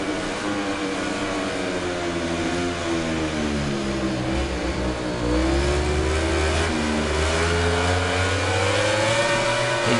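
Racing motorcycles scream through a final lap in the video game MotoGP 19, with high revving engines rising and falling in pitch as gears shift, loud and continuous with no talk.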